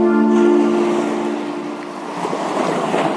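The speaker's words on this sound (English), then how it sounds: "That's the sound of a foggy beach." Foggy beach on England's south coast at Eastbourne: a low, sustained horn-like tone at the start fades into a broad wash of surf and ambient noise, moderately loud and continuous, without speech.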